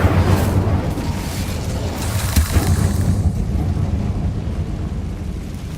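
Incendio fire spell cast in Hogwarts Legacy, a loud burst of whooshing roar followed by a sustained rumbling blaze that slowly fades.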